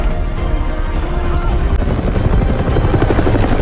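A helicopter flies overhead with a loud, steady rotor thump and engine drone that stays close and constant throughout.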